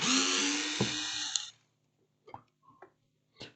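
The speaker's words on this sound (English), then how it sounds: "Let's take out the screws." A power screwdriver whirs loudly and close for about a second and a half while backing screws out of a mobile speaker's casing, followed by a few short clicks and handling taps.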